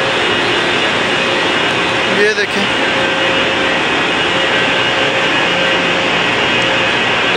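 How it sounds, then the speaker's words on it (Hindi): A Haramain high-speed train locomotive, two engines coupled, gives a loud steady roar with a constant mechanical hum that fills the scene. Someone speaks briefly over it. "ये एक इंजन के साथ दूसरा इंजन भी अटैच हुआ हुआ है"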